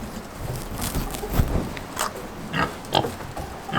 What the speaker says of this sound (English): the pigs just will crunch right into those eggs and devour them